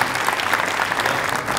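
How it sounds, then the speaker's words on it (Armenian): Dense applause from a studio audience on an Armenian television talk show, a brief, steady burst of many hands clapping together without voices over it. "ծափերով հասկանանք"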